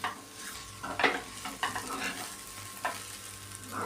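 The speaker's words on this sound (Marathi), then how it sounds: "आणि हे चांगलं परतून घ्यायचं." Onion and coconut masala sautéed and stirred in a pan over low heat, a soft continuous sizzle with a few scraping stirs of a spoon against the pan, close and without talk.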